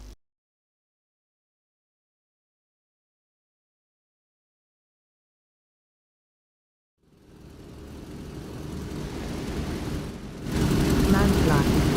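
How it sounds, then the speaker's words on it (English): An aircraft engine in the DCS flight simulator video game starts after a long silence, building into a steady mid-loud drone that swells louder near the end. "Tell me if my engine sounds like it's running weird."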